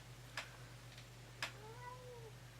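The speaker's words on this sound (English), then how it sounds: "She just came in and meowed at me." A cat meows once indoors, a short, quiet call near the end, following a couple of soft ticks over a low background hum.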